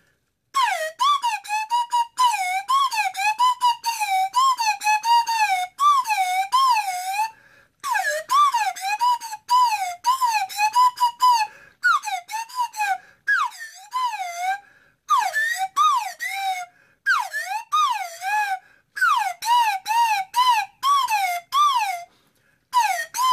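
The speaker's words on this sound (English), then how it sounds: "the lyrics are going to come out of this McDonald's cup with this McDonald's straw" Chorus of a song squeezed out as wavering, siren-like whistles through a McDonald's straw in a cup, in continuous rapid melodic phrases with brief gaps, close and shrill, no voices.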